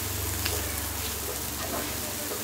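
Raw banana pieces coated in chili powder fry in hot oil with a dense, steady sizzle. The crackle stays continuous and close for a couple of seconds, with faint stirring scrapes and no voices.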